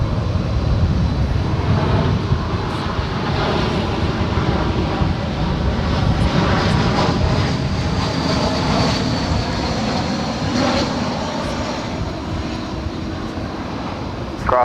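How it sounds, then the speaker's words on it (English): An American Airlines Airbus A321 jet lands at Dallas Fort Worth International Airport, a steady loud engine roar and rushing whine that holds throughout, close and continuous. "Next arrival, American Airlines Flight 2807 coming in from San Francisco."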